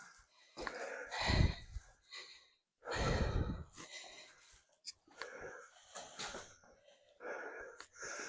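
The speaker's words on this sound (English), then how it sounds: "We're panting." Heavy, breathy panting from people worn out after climbing cathedral stairs, with loud gasping breaths in bursts and quieter wheezy breathing between them, recorded close.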